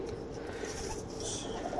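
Soft cooing of John Sire Teddy breeder pigeons blends into a steady murmur of background noise, low and continuous, with no clear voices.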